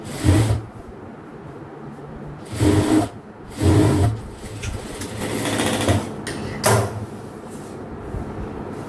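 A sewing machine stitches a seam on a half-circle maxi dress with princess cuts, running in several short, close bursts separated by brief pauses.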